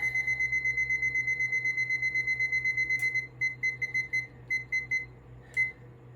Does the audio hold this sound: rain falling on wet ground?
no